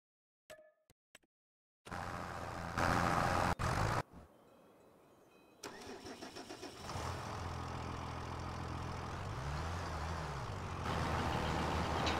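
Tractor engine from Farming Simulator 25 running while discing and cultivating a field, a steady loud diesel drone with shifting revs and a rising-falling pitch sweep, after a few brief clicks and a short silence at the start.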